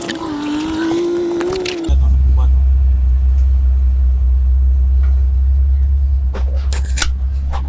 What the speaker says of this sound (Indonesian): Lo mau denger suara knalpotnya nggak? Gue tempelin mikrofonnya deket sama knalpot ya.